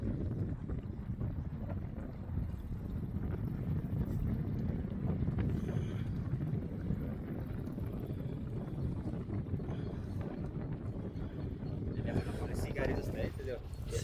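Wind buffets a microphone by the sea near South Korea, a steady low rumble lasting throughout, with boat-like noise mixed in and a voice talking over it.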